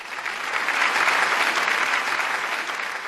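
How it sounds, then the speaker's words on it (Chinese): Applause from an audience at a Suzhou Pingtan storytelling performance swells into a steady, full wash of clapping and holds for about three seconds. "掌声有请"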